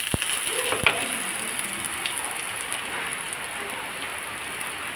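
Potatoes fry in hot oil in a wok, giving a steady crackling hiss like light rain, with a couple of sharp clicks near the start and no speech.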